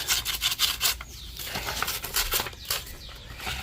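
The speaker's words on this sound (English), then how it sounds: "So we're going to take the sandpaper here." Fine sandpaper is rubbed by hand on the steering shaft of a Ford truck, producing rhythmic scratchy strokes in quick bursts, loud and close with brief pauses between passes.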